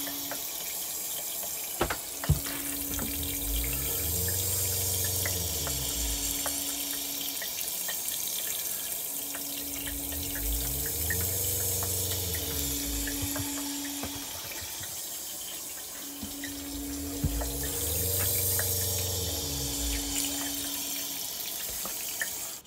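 Faucets in an RV run steadily while bleach solution is flushed from the water system, a continuous close rush of water with a pump cycling in rhythmic surges underneath.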